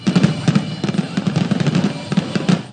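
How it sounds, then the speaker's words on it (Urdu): A fireworks display bursts over Liberty Chowk in Lahore, a loud, dense string of rapid crackling pops and bangs running without pause. "لبرٹی چوک میں شاندار آتش بازی کا مظاہرہ کیا گیا."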